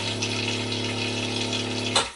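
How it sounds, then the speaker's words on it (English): An all-electric toilet in a Brinks Rhapsody caravan fills with water, giving a steady close pump hum and trickle that runs evenly, then stops with a small click at the end. "Press it one way to fill the toilet."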